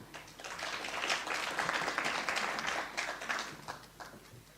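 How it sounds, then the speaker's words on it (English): At a research seminar, the audience gives a quiet, modest round of applause after a talk, soft and somewhat distant clapping that swells briefly and then thins out. "I think that round of applause was too timid."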